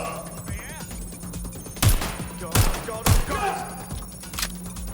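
Gunfire in Watch Dogs: Legion cracks out in several loud, sharp bursts and single shots over a dense game background, with a person briefly speaking.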